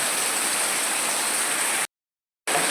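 Heavy rain falls in a steady, loud, broadband hiss with wind around a Kerala home kitchen, cut by a brief gap of silence before resuming.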